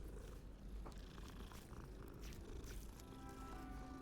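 The calico cat in Hogwarts Legacy purrs softly and continuously in a low rumbling rhythm, faint and close, with quiet background game ambience and no speech.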